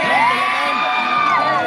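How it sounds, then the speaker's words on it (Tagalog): Young Gen-Z protesters at a Mendiola rally shouting together, a loud, sustained crowd of raised voices and whoops close by, dense and unbroken for a brief moment. "Yan, sigawan nila, oh."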